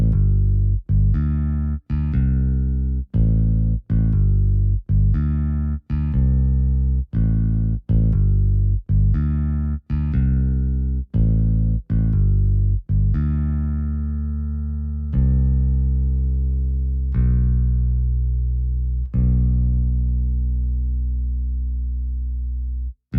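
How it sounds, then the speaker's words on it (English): Bass line from a track rebuilt in Ableton, a loud, steady run of repeated synth-bass notes with sharp gaps between them, easing into longer sustained notes near the end. "So just to hear some of the bass that you'll get out of it."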